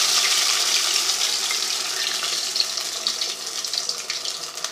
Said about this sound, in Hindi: ये पतला सा जो घोल हमने तैयार किया था उसमें जो पिन व्हील है इस तरह इसको ऐसे डुबोना है और इस तरह घी में डाल देना है